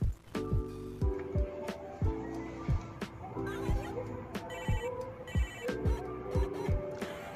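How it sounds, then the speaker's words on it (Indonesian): A telephone rings in a repeating pattern of bright, tonal bursts, loud and close, with short pauses between rings. "Wah, ada telepon nih dari Rian."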